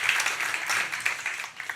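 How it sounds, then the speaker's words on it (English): Audience applause at an Actors' Equity Foundation awards ceremony, a steady wash of clapping from a crowd that keeps an even level throughout with a few sharper claps standing out. "Please join me again, a round of applause for Cheryl Lee Ralph."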